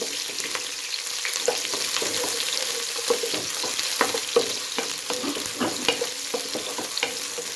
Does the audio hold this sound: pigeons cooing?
no